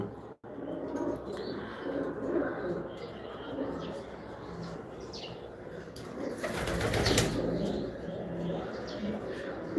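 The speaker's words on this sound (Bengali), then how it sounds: "আলহামদুলিল্লাহ কবুতর ঘরে চলে আসছে" Racing pigeons coo softly nearby in their loft, with occasional wing flaps and a burst of fluttering, while voices murmur in the background.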